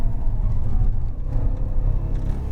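Jaguar XJR 575 long-wheelbase saloon with a supercharged V8 engine, driven on a race circuit, heard from inside the cabin as a steady, loud low engine rumble and road roar with no talk.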